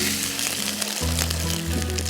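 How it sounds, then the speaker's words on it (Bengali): Water poured onto fried onions in a hot pan sets off a loud, steady hiss of sizzling and bubbling that fills the whole moment, close by and without talk. "আমি একটু পানি দিয়ে দিচ্ছি যেহেতু পেঁয়াজটা ভাজা হয়ে গেছে"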